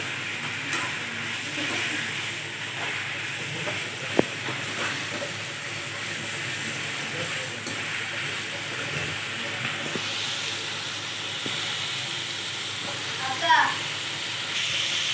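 Onion and tomato sizzle softly in hot oil in a pot while a country chicken curry is being prepared, a faint steady hiss running throughout with a couple of brief clatters.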